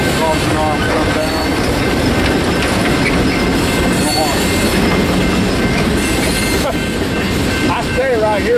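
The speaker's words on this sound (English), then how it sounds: "The train comes through here, and all they do is ring the bell" A train rolls steadily past a crossing close by in Houston, Texas, wheels clattering and squealing over the rails, with people talking over the loud continuous rumble.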